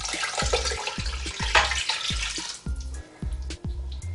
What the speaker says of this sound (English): Now I've got 2 cups of water.